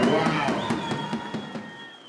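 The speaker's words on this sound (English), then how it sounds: "let's give our party group a big round of applause out there" Guests at a wedding reception applaud with a few cheers, rhythmic clapping that starts strong and fades over a couple of seconds.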